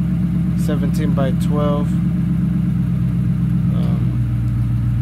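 A Crown Victoria police car with headers and an open exhaust cutout idles with a loud, deep, steady rumble, while someone talks briefly over it.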